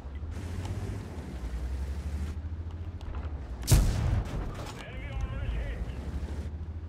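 Tank cannon firing a high explosive shell in World of Tanks, a single loud boom cutting through a steady engine drone, with someone talking around it.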